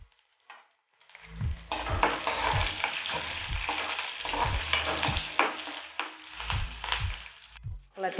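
Mustard seeds, curry leaves and chillies spluttering in hot oil, a continuous crackling sizzle punctuated by sharp pops and spatters, close and fairly loud, with no speech.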